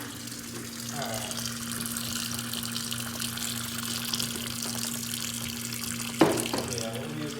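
Tap water runs steadily into a 16mm film developing tank, a continuous close rush of flow with one brief knock near the end.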